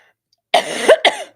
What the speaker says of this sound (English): I drank water to help with the cough, but then it went down the wrong pipe.